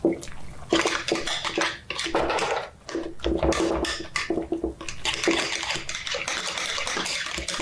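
Liquid buttermilk is poured into a pot of boiled red potatoes and stirred, giving a steady wet splashing and sloshing that runs throughout with brief pauses, close and fairly loud, with no talking.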